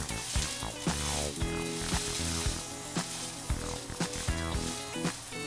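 Pancake balls fry in a hot pan over medium heat, giving a steady, close sizzle with repeated sharp clatters and taps over it.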